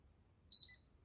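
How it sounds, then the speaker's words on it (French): A Livebox Pro V4 router gives a short, high double beep after its reset button is held, alone against near silence. "vous allez entendre un petit bip au bout de 5 secondes"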